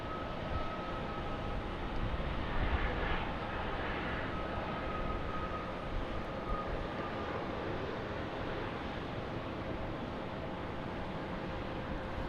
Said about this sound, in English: we've got a 737 MAX 8 getting ready to depart here